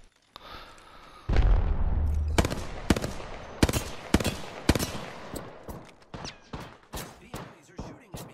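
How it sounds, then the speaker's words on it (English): Apex Legends gunfight with a loud burst of rapid fire followed by a series of sharp single shots and impacts, close and punchy, with faint in-game voice lines. "The enemies are shooting at me."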